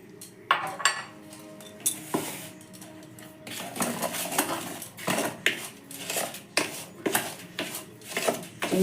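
Sugar being mixed into eggless, flour-free cake batter in a bowl, heard as repeated spoon scrapes and clinks against the bowl in an uneven rhythm, close up and with no speech.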